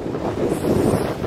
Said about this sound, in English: it is so bloody windy